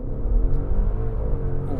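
A 2021 Maserati Levante Trofeo launching under launch control, with a deep, heavy engine rumble building steadily as it accelerates hard and close.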